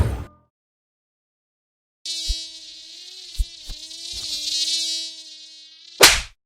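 Loud, whining mosquito-like insect buzzing fills an insect repellent ad for an all-natural bug repellent, broken by a few short clicks and ending in a sharp burst.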